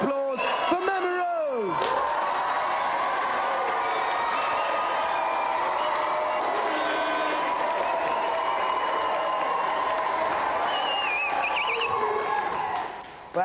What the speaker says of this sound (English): Let's have a big round of applause for Mamoru.